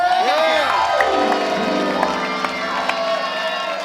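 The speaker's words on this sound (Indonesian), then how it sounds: "Oke, tepuk tangan dulu." Studio audience at an Indonesian live TV music show clapping and cheering in a steady, dense wash, with whoops and shouts rising over it while a host's voice carries through.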